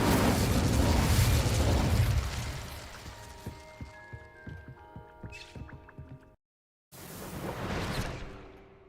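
An Incendio fire spell from a Hogwarts video game erupts in a loud, roaring burst of flame that fades into a crackling tail, followed after a short silence by a second whooshing surge.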